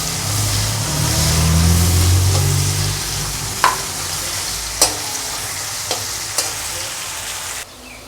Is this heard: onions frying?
yes